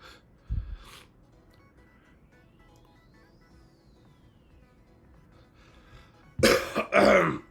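A person coughs and clears their throat: a brief, low throat-clearing burst near the start, then two loud, close harsh coughs near the end, with quiet room hiss in between.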